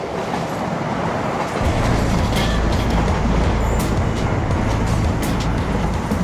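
A passenger train arrives at a station platform and rolls steadily past, with a loud continuous rumble and rhythmic wheel clatter that swells after the first couple of seconds, close by, with no talk.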